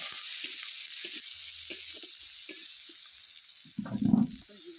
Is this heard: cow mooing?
no